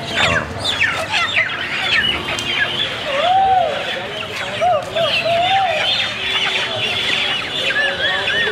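Chickens at a poultry market in Kolkata's New Market cluck and squawk continuously at close range, with occasional sharper calls and a busy crowd murmuring beneath.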